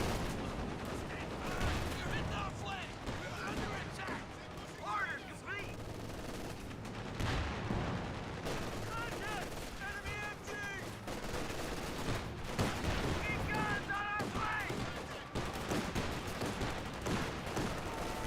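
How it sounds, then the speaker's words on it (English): Anti-tank guns fire in a Company of Heroes 2 battle alongside a Sherman tank, heavy bursts of gunfire and explosions repeating through dense battlefield noise, with a commentator talking over much of it. "Double AT gun firing away."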